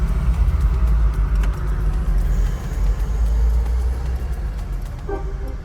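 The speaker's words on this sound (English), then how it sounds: "there is a cash van behind me" An armored cash-collection van drives behind on a South African road, heard as a steady, loud low engine and road rumble with a brief horn-like tone near the end.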